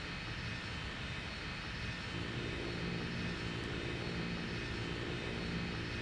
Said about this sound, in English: Oh hey, a third biplane.